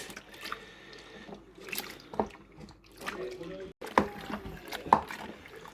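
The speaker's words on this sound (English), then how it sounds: "now a bit of stirring. Stir it all in, and then we'll add the rest of the water before finishing off with the yeast." Homebrew beer wort, a Mangrove Jack Juicy Session IPA kit, is stirred in a fermenter, producing irregular sloshing and splashing with sharp spoon knocks, fairly close and moderately loud.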